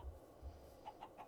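Chickens in a video game, an island survival build, cluck in a few short, quiet, soft bursts near the end, with low thumps early on and no talk.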